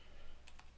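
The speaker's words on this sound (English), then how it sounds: "Okay, so I will type rafter." A couple of quick keystrokes on a computer keyboard, close and crisp against faint room noise.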